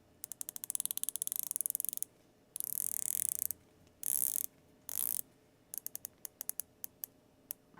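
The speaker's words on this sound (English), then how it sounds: "Really great bezel action, very distinct clicks, very loud clicks, and it feels wonderful" Tungsten bezel insert on a dive watch being rotated, giving loud, distinct ratcheting clicks in quick rapid bursts and spaced single clicks, close up with no talking.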